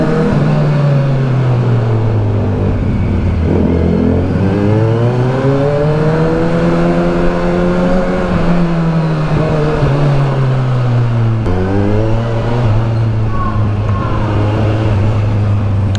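A 1000cc Kawasaki Versys 1000 SE motorcycle riding, its engine droning loud and close with rising and falling revs as the rider accelerates and shifts, under steady wind noise.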